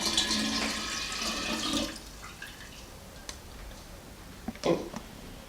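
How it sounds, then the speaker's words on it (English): Warm tea is poured into a jar of kombucha, a close splashing stream for about two seconds that then stops, followed by faint clinks and a brief knock. "And then I pour the tea, because it's still quite warm."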